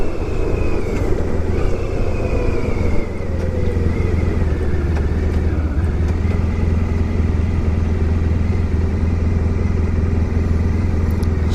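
A motorcycle passes on an open road, heard from aboard a 1994 Honda ST1100 whose steady engine drone and wind roar run loud and unbroken throughout, with a faint falling pitch early on as the other bike goes by.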